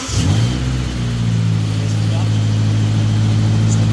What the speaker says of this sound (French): Juste un petit coup de gaz.